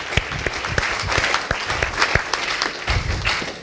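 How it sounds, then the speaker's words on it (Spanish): A church congregation applauding the Lord during a sermon, dense sustained clapping from many hands filling the room, close and steady with a faint murmur of voices. "dele ese fuerte aplauso al Señor"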